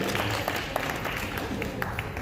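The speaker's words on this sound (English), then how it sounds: "So we'll give them a quick round of applause." Audience applause at an outdoor Phagwah (Holi) celebration in New York City, a steady wash of clapping from a moderate crowd with scattered sharper claps and a few voices mixed in.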